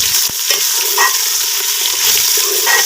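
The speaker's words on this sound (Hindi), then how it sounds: "साथ ही हम इसमें चिकन ऐड कर देंगे," Chicken pieces frying in a pan with golden brown onions, a dense steady sizzle with stirring scrapes close by, loud and continuous with no talking.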